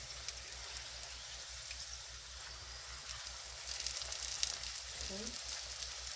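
A beef patty frying in a pan, giving a steady, soft sizzle with light crackle that holds evenly throughout at close range, with no talk over it.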